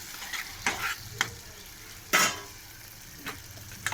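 A paste of cumin, ginger and dried chili fries and sizzles in a pan while it is stirred. Repeated scraping strokes and clinks of a spatula ride over a continuous close hiss.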